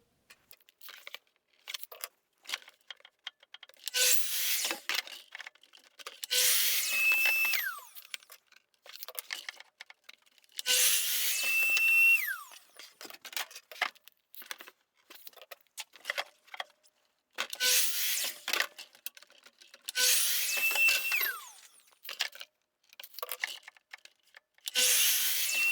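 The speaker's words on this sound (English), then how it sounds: "I will be starting to cut out all the plywood needed for this project" A power saw cuts plywood in repeated loud bursts of several seconds each, with the blade's whine rising and falling, separated by quieter stretches of handling, rubbing and scraping of wood.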